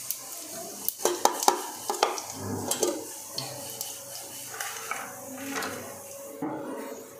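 Cumin seeds sizzle in hot oil in a pan for a vegetable green pulao, with a soft, steady frying hiss under repeated close scraping and knocking stirs from a spoon.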